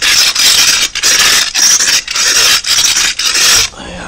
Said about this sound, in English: Homemade device this basically, just got it at the right angle so it can scrape